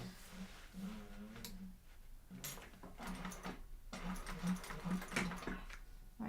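A sewing machine stitches fabric panels in a quiet class setting, its motor running in short bursts with gaps between. Each run gives a soft, close, rhythmic hum.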